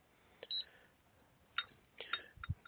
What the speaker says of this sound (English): you'll hear it beep when it boots up